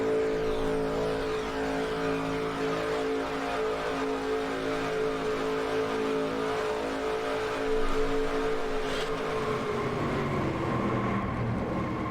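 Onboard view of the 51 race car in a NASCAR-style racing video game, its engine a loud, steady, close drone holding pitch for several seconds, then shifting and dropping as the car crashes hard and tumbles end over end.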